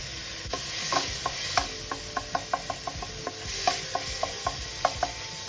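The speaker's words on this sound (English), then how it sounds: "Stir fry until they're nice and fragrant." Garlic paste stir-frying in oil in a pan, a continuous light sizzle punctuated by a steady run of sharp utensil taps and scrapes against the pan, with no talking.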